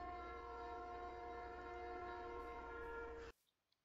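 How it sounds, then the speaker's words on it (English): A locomotive horn on an EMD 1206 switcher in the Traincraft Minecraft mod sounds as one loud, steady chord that holds for about three seconds before cutting off abruptly into near silence. "it actually blows the 1206's horn, because that's actually what the 1206's horn sound like"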